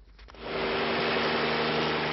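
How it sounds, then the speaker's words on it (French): A helicopter hovering low over a Burgundy vineyard to dry the grapes, giving a steady, dense rotor and engine roar that swells up within half a second and holds loud and unbroken. "L'hélicoptère comme sèche-cheveux, ou plutôt comme sèche-raisin."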